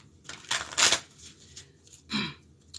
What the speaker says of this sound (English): let's shuffle the deck real quick